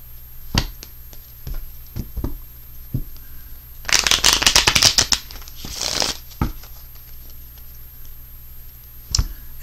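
Tarot cards are handled and pulled, scattered light taps and clicks giving way to a dense riffling burst of shuffling midway, then more isolated card snaps, close and fairly loud with no voices.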